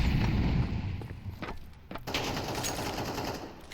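Rapid gunfire in a first-person shooter match, a dense crackling burst that tapers off and then resumes steadily, heard without speech over it.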